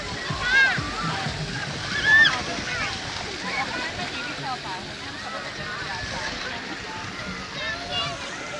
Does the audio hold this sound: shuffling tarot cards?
no